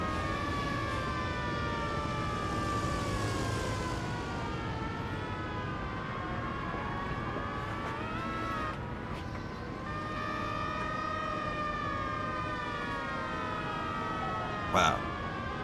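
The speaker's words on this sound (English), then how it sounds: "that's a big siren, isn't it?" Emergency vehicle sirens wail continuously in a city-building game, several overlapping tones rising and falling loudly for a long stretch, with brief talk near the end.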